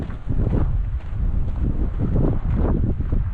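Steady wind buffets the microphone outdoors on a sunny day by the water in Alaska, with loud rumbling gusts that swell and ease continuously with no speech.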